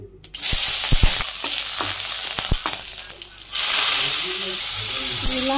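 Red amaranth greens frying with turmeric and chili in a home Bangladeshi kitchen, a steady loud sizzle and hiss with scraping stir strokes, briefly dipping then surging back as more greens hit the pan.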